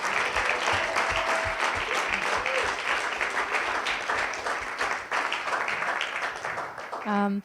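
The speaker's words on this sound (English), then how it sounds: "Let's give a round of applause to all Kenyan participants." Sustained applause from a large audience, dense and steady throughout, with a few brief voices rising within the clapping.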